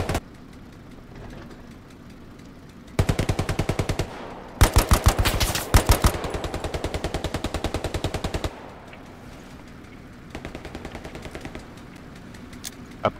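Automatic gunfire in the Hell Let Loose war game, several loud rapid bursts in quick succession, then fainter distant bursts over a low background rumble, with no talk.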